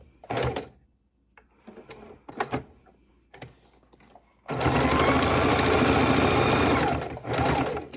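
Stitching a fidget quilt, a sewing machine makes a few short bursts, then settles into a long loud continuous run, its close rapid needle chatter filling the space before a brief final burst.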